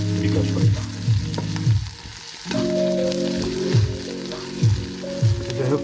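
Onions frying and sizzling in a pan for Bengali cooking, a steady close sizzle with repeated scraping stir strokes, briefly dropping quieter midway before resuming strongly.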